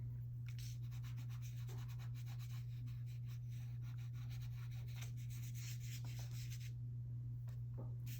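Soft Sennelier or Mungyo pastel is rubbed into paper in quiet, repeated scratchy strokes, faint beneath a steady low electrical hum.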